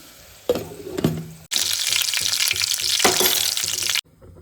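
Tomatoes fry in a pan for a fish biryani, a loud steady sizzle with bursts of stirring, opening with softer scraping and ending suddenly.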